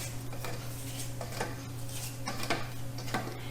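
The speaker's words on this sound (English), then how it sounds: "So once I get them sliced, I go ahead and put them on the tray" Sliced food is set down onto a baking tray in a kitchen, producing several soft, scattered clinks and taps over a steady low hum.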